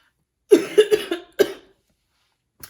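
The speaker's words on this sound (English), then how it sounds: "So ignore the cough." A burst of several rough coughs from a person with a cold, in quick succession, close to the listener, followed by a pause and one faint final cough.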